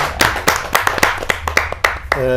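Audience clapping at a Hindi kavi sammelan poetry gathering: scattered, fairly sparse claps at an uneven rhythm, close, with a voice beginning at the end.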